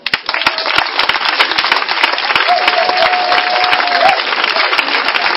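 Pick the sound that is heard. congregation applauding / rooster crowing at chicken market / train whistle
congregation applauding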